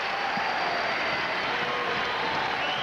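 A New York tennis crowd at a 1995 exhibition showdown fills the space with a steady wash of cheering and applause, sustained and broad, with no single voice standing out.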